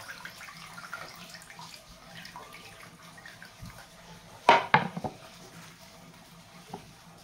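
Water drains off soaked chopped spinach, with faint trickling throughout and a short, louder splashing burst near the middle before it settles back to quiet dripping.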